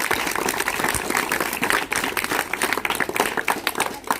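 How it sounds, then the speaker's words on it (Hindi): Students at a government senior secondary school in Ishwar Nagar giving a teacher a loud welcoming round of applause, dense continuous clapping from a large group, close and sustained throughout. "तो एक बार जोरदार तालियों से मैम का स्वागत करें।"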